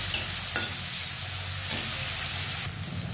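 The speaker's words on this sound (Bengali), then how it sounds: "এটাকে ভাজবো, লালচে লালচে করে ভাজা করতে হবে।" Chopped onion and green chili sizzle steadily in hot oil while being stirred, with a few soft scrapes of the spoon over a continuous frying hiss.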